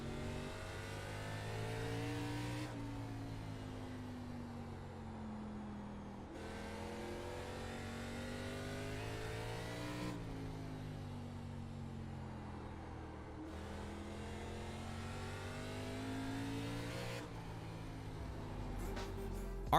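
A race car engine from the iRacing oval simulator drones steadily for the whole stretch, its pitch sweeping through repeated upshift-like cycles every few seconds as the car circles, with no talk over it.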